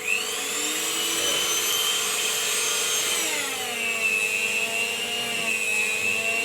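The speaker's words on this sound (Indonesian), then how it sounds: "Kita dengan menggunakan mixer apa ini ya? Miyako. Kita menggunakan gigi 1 ya." A Miyako hand mixer on its lowest speed whirs steadily through martabak batter, a continuous close motor hum with a slight pitch dip midway and no voices.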